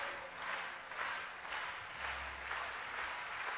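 An audience at a religious festival gathering in Chennai claps together in a slow, even rhythm, the soft pulses repeating about twice a second at a faint, distant level.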